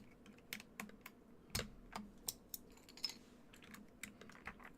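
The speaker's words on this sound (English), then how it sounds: "Let's drop the neons in here." Neon double-shot PBT cherry-profile keycaps click and tap as they are pressed onto a KBDFans Athena 1800 keyboard, a series of irregular close plastic knocks with quiet gaps between them.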